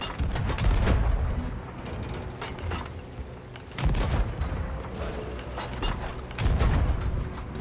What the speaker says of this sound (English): Left side cannons.